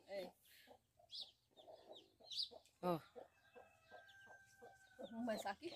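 Small chicks peep and a hen clucks nearby, short scattered calls and a few longer cheeps, close and soft, with a person speaking among the bird sounds.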